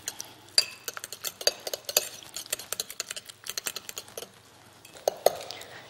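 Utensil stirring a walnut-oil and chive salad dressing in a bowl, a quick run of close, crisp clinks and scrapes against the sides, with a brief pause before a few final taps.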